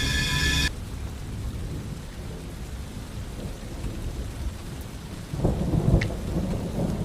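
Heavy rain hisses steadily while thunder rumbles low underneath, then a deeper, louder roll builds near the end, used as a backdrop for a horror story with no voices over it.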